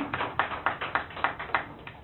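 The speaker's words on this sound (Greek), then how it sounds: "και το μεγαλύτερο χειροκρότημα" A few people clapping at a book presentation in a bar, sparse, fairly slow claps in an uneven rhythm, moderately close and quiet.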